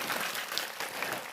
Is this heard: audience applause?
yes